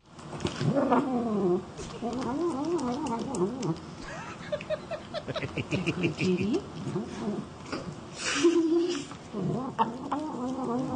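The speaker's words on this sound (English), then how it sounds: "I throw you now to a cat eating corn on the cob." Close, wet smacking and chewing noises of a cat eating corn on the cob, mixed with little chirpy squeaks and mews, uneven and bursty throughout.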